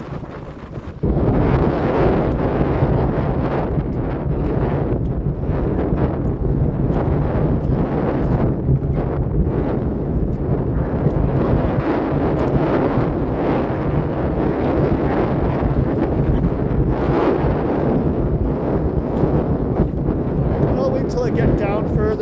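Strong wind buffets the microphone on a mud-flat beach on Malcolm Island, a loud, continuous rumbling roar that starts abruptly and barely lets up, with faint voices underneath.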